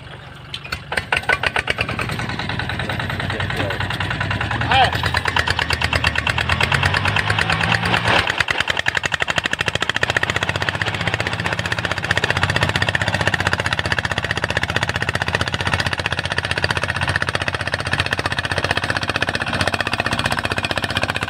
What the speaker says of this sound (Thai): ตัวใหญ่นะอันนี้ก็รถของน้าภาคนะเป็นตัดตัวใหญ่มากสบายเลยอ่ะดึงรถคนเดียวอ่ะ